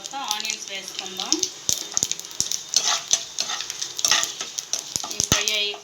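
Cumin seeds fry and sizzle in a pan for a soya bean curry, a steady crackling hiss close by with scraping stirs and sharp utensil taps against the pan, while a voice speaks faintly in the first seconds.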